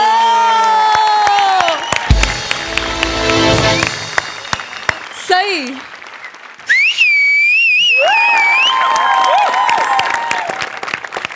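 A live comedy-show audience breaks into applause and cheering with whistles, the clapping swelling and fading amid sung musical phrases and a brief spoken word.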